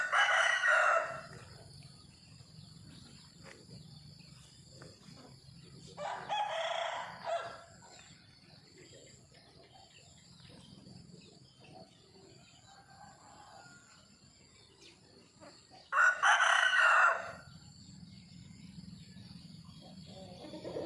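Roosters crowing in a rural Thai village in the morning, three loud crows spaced across a quiet stretch, with faint clucking and soft background ambience between them.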